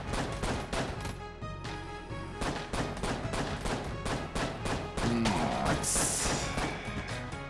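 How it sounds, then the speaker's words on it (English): The chamber gun in Enter the Gungeon fires rapid, continuous bursts of loud, punchy shots that keep going for the whole stretch, with game sound layered around them. "I guess let's try to use the chamber gun"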